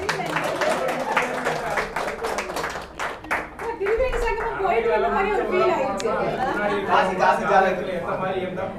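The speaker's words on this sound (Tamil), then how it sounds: "அவருக்கு ஒரு ஒரு கைதட்டல் போடுங்க" A round of clapping from an audience at a Tamil astrology talk, scattered claps rising into applause mixed with chatter and voices talking over it at close range.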